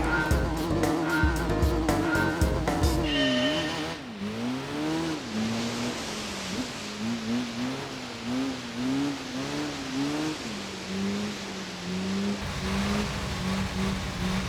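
A Corvette circling on a wet track in Gran Turismo 3, the engine revving and wavering as it turns, with repeated tire squeal and a steady hum. A clipped burst of game sound opens it.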